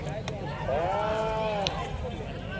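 A male water buffalo bellows in a long, drawn-out tonal call at a village buffalo fight, rising and falling over a steady crowd murmur, with a few sharp knocks nearby.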